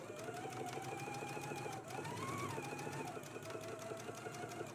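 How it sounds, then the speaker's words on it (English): A sewing machine runs a steady stitch along a sleeve hem, catching in lace, its rapid needle pulse fairly quiet and even throughout. "I'm going to go ahead and stitch right here, right along the edge, catching in the lace and the hem"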